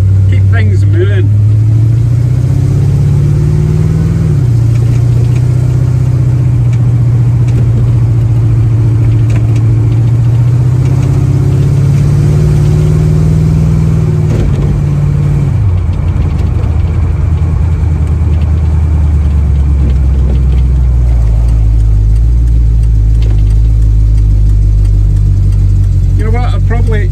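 A loud Chevy hot rod engine idling and revving close up, a deep rumble that rises and drops in pitch, running continuously throughout.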